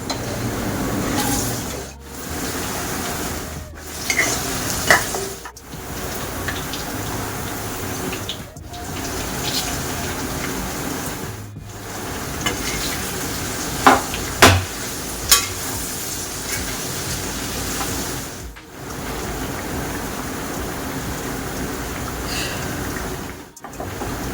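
Garelu, lentil fritters, frying in hot oil give a continuous bubbling sizzle, broken by short pauses and a few sharp clinks of utensils, with no voices.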